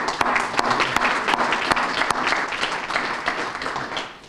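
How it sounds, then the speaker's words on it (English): An audience at a graduation event for a business program applauds a speaker, a dense, steady clapping from many hands filling the room, with a few louder individual claps standing out. "Dan, can you give Dan a round of applause?"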